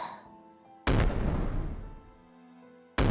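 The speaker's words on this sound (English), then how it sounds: "The fireworks rise into the air," Fireworks bursting in the sky arrive as two sharp, loud booms, each followed by a long rumbling decay, heard over a quiet musical background.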